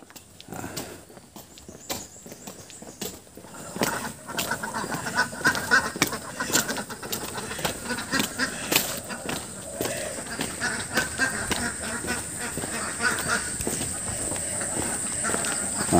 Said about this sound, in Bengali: হাঁসগুলো চলে যাবে এখন